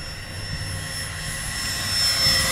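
An E-flite Habu SS radio-controlled jet with a 70mm electric ducted fan flies past, giving a steady, loud rushing whine that swells slightly toward the end, heard outdoors with no voices.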